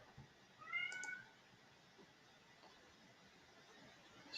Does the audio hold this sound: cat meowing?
yes